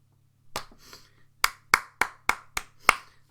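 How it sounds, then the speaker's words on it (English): Seven or so sharp, separate hand claps ring out close by at an uneven pace, with a short rustle between the first clap and the rest, during a cricket Test match review show. "Let's clap it up."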